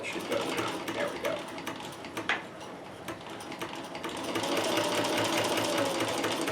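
A sewing machine runs steadily, stitching a long fabric tube with a small stitch length, its rapid mechanical ticking continuous and close, louder in the second half, with a voice talking briefly over it.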